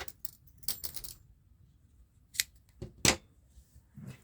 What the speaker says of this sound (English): we can cut it off